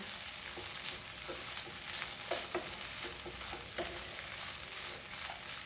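Poha with fried peanuts being stirred and mixed in a pan, a soft continuous sizzle broken by repeated scraping and clinking strokes of a spoon, fairly quiet, no voices.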